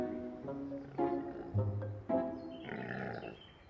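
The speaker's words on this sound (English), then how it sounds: "The sound of a sick stegosaurus" Toy or animatronic sick stegosaurus dinosaur growling, a few low, rough, groaning grunts rising and falling over several seconds, fairly quiet with no talk.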